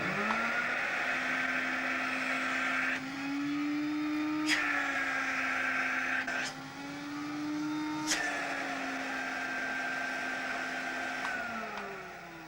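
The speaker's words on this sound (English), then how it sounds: "you can actually hear the pitch of the motor rising when I block the inlet up" A vacuum cleaner fan motor whines steadily and close by, its pitch rising and falling several times as the inlet is blocked and then freed again.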